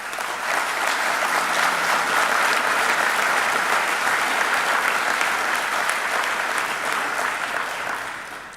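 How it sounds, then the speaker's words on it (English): Audience at the Marblehead Annual Town Meeting applauding its volunteers, a dense, sustained round of clapping from a large indoor crowd that holds steady and tapers slightly at the end. "Our volunteers really deserve a round of applause."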